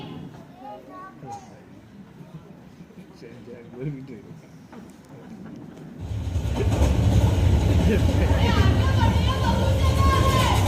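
A train pulls into a crowded Indian station platform, its loud rumble and clatter swelling suddenly and holding steady to the end, with people talking throughout.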